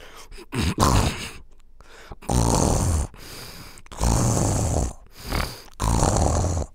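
Loud, rasping snores repeat in long drawn-out bursts with short quiet gaps between them, close and alone.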